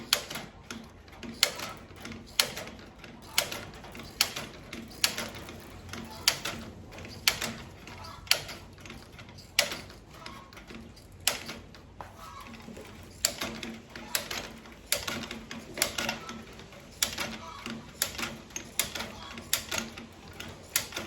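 Wire snips cutting half-inch hardware cloth for a quail cage feeder, a steady run of sharp metallic clicks at roughly half-second intervals, close and fairly loud over faint room noise.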